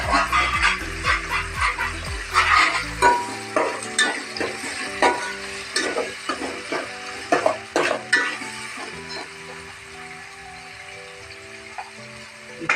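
French beans stir-frying in a pan for chilli Manchurian, with a loud rapid scraping and stirring burst at the start, then steady sizzling and intermittent spatula scrapes; no one speaks.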